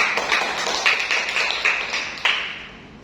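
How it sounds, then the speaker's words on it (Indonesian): A classroom gives a classmate a round of applause, a short burst of light, rhythmic clapping from a small group that fades out after a few seconds. "Mari kita beri tepuk tangan untuk teman."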